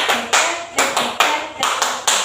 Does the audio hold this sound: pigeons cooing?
no